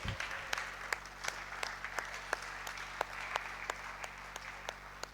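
Church congregation applauding together in a steady wash of clapping, with sharper individual claps standing out at a fairly regular beat over a constant low hum.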